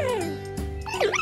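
A puppy yips with high, rising and falling whimpers, a couple of close, clear cries separated by a brief pause.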